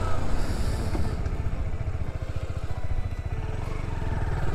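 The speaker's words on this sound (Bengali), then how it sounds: "Last ride with my Suzuki Address 125." A Suzuki Address 125 scooter engine hums steadily at close range while riding, with a continuous low drone and faint road rumble throughout.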